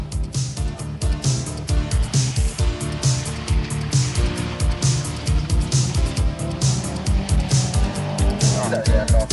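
Rally cars racing flat out on an RAC Rally 1987 special stage in Britain, engines roaring loud and close with repeated surges and passes, tyre noise at times, under continuous commentary throughout.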